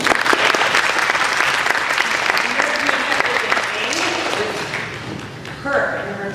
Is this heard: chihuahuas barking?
no